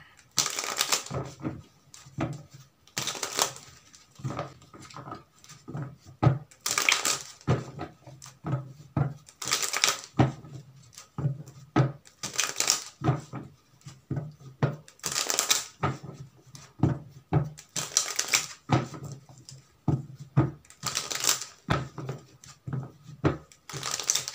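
Playing cards from a standard deck are shuffled and drawn in repeated crisp riffling bursts with soft flicks and taps between them, close and steady throughout, with no talking.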